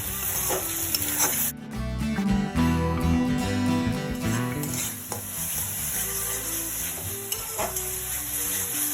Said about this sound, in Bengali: মশলা আমি ভালো করে কষিয়ে নিলাম